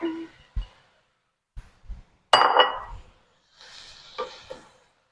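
Cut butternut squash pieces tipped into a cooking pot for vegan chili, a few scattered clinks and bumps followed by a louder clattering tumble, then softer rustling knocks.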